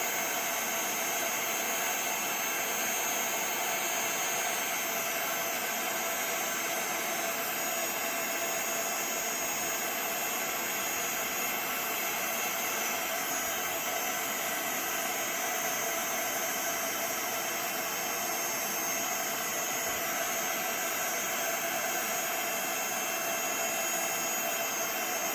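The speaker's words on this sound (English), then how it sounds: "as soon as we see that embossing powder start to melt and change, I'm just going to move my heat gun over the image" A heat gun blowing hot air to melt embossing powder on a Christmas card, a loud, constant roaring whoosh that holds steady for the whole stretch.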